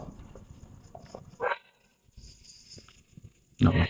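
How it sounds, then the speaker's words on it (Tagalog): Dogs barking outside an abandoned mansion: a few short barks, one burst near the middle and a louder, closer-sounding burst at the end, with quiet stretches and faint shuffling between. "Wala kang maririnig kundi mga aso lang."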